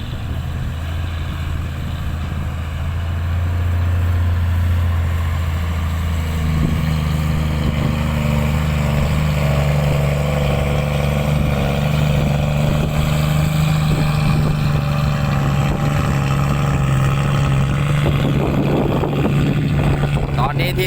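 Six-wheel and ten-wheel trucks with loud, sustained low engine drone, revving up around the middle and holding steady, heavy and close, with people talking over it.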